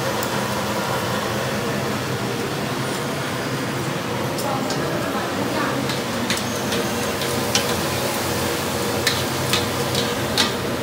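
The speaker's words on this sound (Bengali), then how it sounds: "লুচি ভাজা হচ্ছে।" Luchi fry one after another in hot oil, a steady low sizzle with occasional sharp ticks and crackles, while voices murmur in the background.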